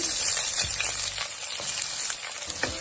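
Onions frying in hot oil in a kadai with cinnamon, cardamom, bay leaf and cloves give a steady, close, crackling sizzle with a few soft stirring knocks throughout.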